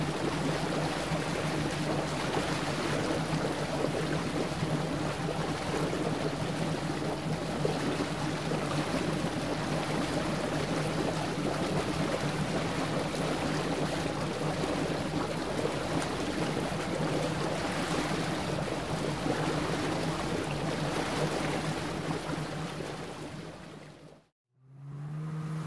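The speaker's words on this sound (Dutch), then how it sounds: "Houten boot." A wooden boat moves on water with a steady, dense wash of engine and water noise that runs almost unbroken. It cuts out briefly near the end, and no one speaks.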